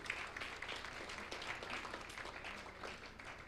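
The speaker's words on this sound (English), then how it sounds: "a round of applause as we finally signed the MOU" Faint, steady applause from a gathering at the launch of NIFC as a memorandum of understanding is signed, a soft continuous patter of many hands heard from a distance.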